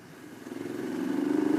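A Honda CL Scrambler motorcycle engine idles and then revs up steadily, its low throbbing growl growing louder and more rapid over a couple of seconds, with no voices.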